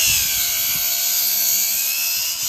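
A grinder fitted with a gouging disc cuts into a wooden 2x6 board, a loud steady high-pitched whine holding for the full stretch with no talking.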